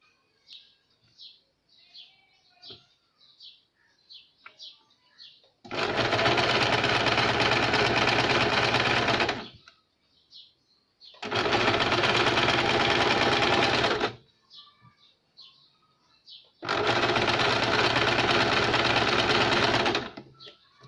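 Sewing machine stitching the seams of a double katori blouse, running in three loud, steady bursts of several seconds each, with quiet pauses between where faint chirping birds can be heard in the background.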